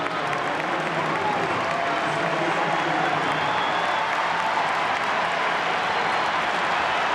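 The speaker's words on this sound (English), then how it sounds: "That applause is to welcome Lautaro Martinez and Angel Di Maria." Dense stadium crowd applause at an Argentina versus Chile football match, welcoming Lautaro Martinez and Angel Di Maria, a continuous broad roar of clapping and noise at a steady level throughout.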